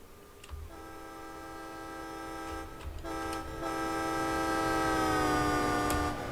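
In the Train Sim World 2 game, a train passes on Boston third-rail track. A long, loud horn blast sounds over a rumbling roll that grows steadily louder as it approaches.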